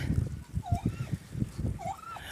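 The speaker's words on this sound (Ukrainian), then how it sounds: "такі індики пшеничку їдять" Brief gobbling warbles from turkeys eating wheat rise over rustling, gusty wind noise, with low thumping sounds throughout.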